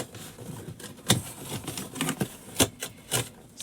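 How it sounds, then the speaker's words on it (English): Cardboard box being trimmed down by hand, with irregular sharp cuts and scraping rasps at close range, a few louder snaps standing out from softer rustling. "Trim this box down a little bit."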